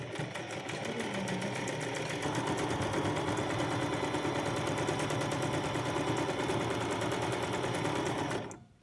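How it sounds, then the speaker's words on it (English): A sewing machine stitches a cloth face mask along its long side, running in a fast continuous rattle close up for about eight seconds before stopping abruptly. "you sew all the way down to the next corner"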